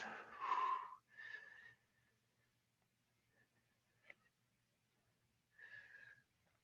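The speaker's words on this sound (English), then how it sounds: "Taking a particularly rewarding breath." During a yoga fold, a person draws a deep, audible breath in and lets it out, with a second softer exhale, a small click, then another breath a few seconds later, close and quiet.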